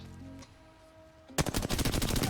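Rapid automatic weapon fire in the Apex Legends video game bursts in loud and close after a quiet stretch of low game hum, as a dense, fast run of shots.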